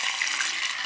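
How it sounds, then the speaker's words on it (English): Half a cup of soy sauce is poured into a pan for teriyaki sauce, a brief close liquid splash and rush lasting under a second. "I'm going to pour in our half a cup of soy sauce."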